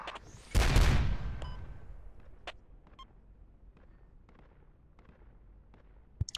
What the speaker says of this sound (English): Yay, the mortars are hitting.